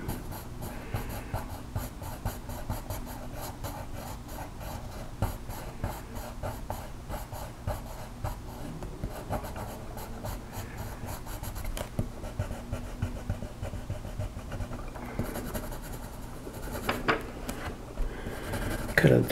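Colored pencils scratching and shading across paper while coloring horses, a steady close-up rasp of strokes with a few louder scrapes and taps near the end.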